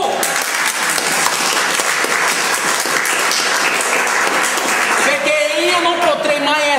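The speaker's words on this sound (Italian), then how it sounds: "Facciamo un applauso a Gesù." A church congregation gives loud, sustained applause, dense clapping at close range, with voices and a rising shout emerging near the end.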